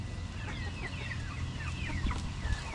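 Backyard chickens cluck and chatter quietly in a steady stream, several birds overlapping at moderate distance with no voices.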